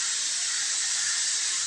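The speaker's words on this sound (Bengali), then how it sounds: "প্যানের ওপর সবজিগুলো ফ্রাই হচ্ছে" Vegetables frying in a pan for chow mein give off a steady, bright hiss of sizzling, constant and close throughout with no talking.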